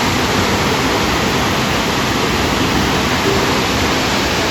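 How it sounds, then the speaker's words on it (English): Steady, dense rushing of water flowing out of hot springs, loud and continuous like a spill or cascade, with no pauses and no voices. "You probably can hear the water coming out of the hot springs."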